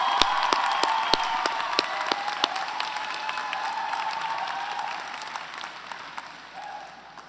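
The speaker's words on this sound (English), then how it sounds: "Please, round of applause." Convocation audience at a Kingston graduation ceremony applauding a staff member, with broad, steady clapping and a few sharp louder claps up front, gradually thinning and softening toward the end.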